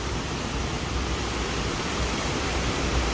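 A powerful waterfall in Minsk roars as a dense, steady wash of noise, loud and close and unbroken throughout, with no voices.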